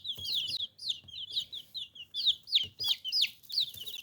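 Young cream legbar and Rhode Island Red cross chicks peep in rapid, high chirps, a steady stream of short calls from several birds close by with no talk over them.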